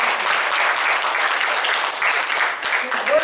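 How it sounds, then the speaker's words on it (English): A church congregation at a Sunday service breaks into dense, loud applause, many hands clapping at once in a sustained wash of sound with no talk over it. "Give them all a hand clap"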